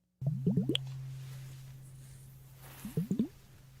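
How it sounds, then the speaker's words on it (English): Water sloshes inside a bottle tipped sideways in a close ASMR recording, two quick bursts of four wet glugging squelches separated by a quiet pause over a low steady hum. "is it like a water bottle that they're turning like sideways?"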